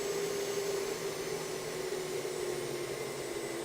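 A hobbyist CNC machine's spindle spins at about 18,000 RPM, giving a steady, even whine with a smooth airy hiss, continuous and close, with no talking over it.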